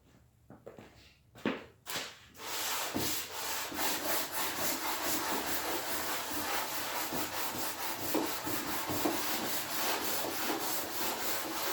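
Wooden dresser sanded by hand with sandpaper wrapped on a small piece of 2x4, a few separate scrapes and knocks at first, then steady rapid back-and-forth rasping strokes, close and loud, with no talking.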